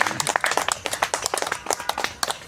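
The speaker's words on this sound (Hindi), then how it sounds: "इसके लिए इनको जोरदार ताली से बधाई।" Audience at a Morning Walkers Association honouring ceremony clapping in a steady burst of crisp, close applause lasting the whole moment.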